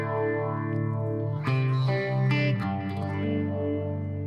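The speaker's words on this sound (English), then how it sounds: "I've got some sort of phaser on there at the moment" An electric guitar played through a Boss Katana amp with a phaser effect rings out in sustained, swirling chords with a gently sweeping tone, loud and alone with no talking.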